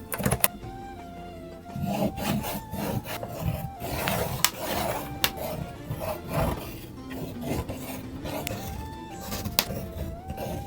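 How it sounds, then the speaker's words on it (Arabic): A metal file drawn along a ruler over paper lines on a paper lantern decoration, repeated scraping and rubbing strokes in an irregular rhythm, close and fairly loud with no voices. "دلوقتي همشي على كل الخطوط اللي انتوا شايفينها دي بالمبرد والمسطرة."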